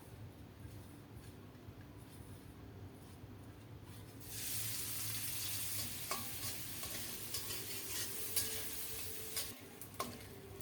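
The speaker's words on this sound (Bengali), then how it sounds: "অল্প করে সরিষার তেল দিয়েছি লবণ হলুদ মাখিয়ে চিংড়ি মাছগুলো ভেজে নেবো" Shrimp coated in salt and turmeric frying in mustard oil, a quiet background that swells after a few seconds into a steady sizzle with light stirring clicks and scrapes.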